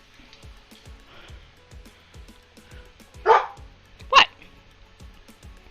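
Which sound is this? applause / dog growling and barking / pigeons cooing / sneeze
dog growling and barking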